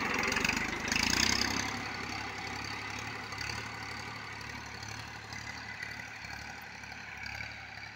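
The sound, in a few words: Massey Ferguson 1035 DI tractor engine idling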